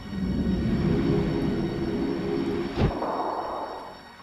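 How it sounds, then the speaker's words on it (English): A tram rolling on rails in the 1995 adventure game The Dig, a steady rumbling, rushing ride with one sharp metallic clank partway through before the noise eases and fades. "we're going to take the tram to the cathedral spire"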